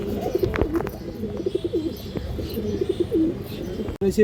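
Pigeons, including main breeder birds, coo in low repeated rolling calls close by, with faint rustling and small chirps in between. A brief pause comes near the end, and no one talks.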